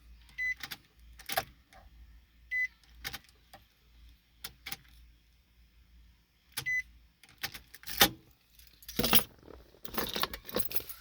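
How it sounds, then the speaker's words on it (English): Keys jangling in intermittent bursts as a key is swapped at a 2007 Nissan Titan SE with a hard-start problem, short metallic clinks and rattles separated by quiet gaps, with a few faint electronic beeps, close and fairly quiet. "I'm gonna go back with the actual Nissan key."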